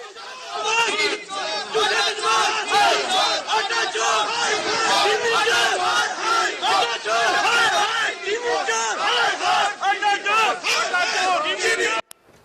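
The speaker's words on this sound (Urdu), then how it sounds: "یہ اس طرح کے نعرے بازی ان کے ارد گرد کی گئی" PML-N party workers chant slogans in a loud, rhythmic crowd around Shahbaz Gill outside a court, with many voices shouting together continuously and close by.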